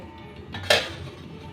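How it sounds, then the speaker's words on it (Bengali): A lid is set down on a cooking pan in one short metallic clink, with a quiet background before and after. "এবার আস্তে আস্তে এটা ঢাকা দিয়ে ফুটতে দেব"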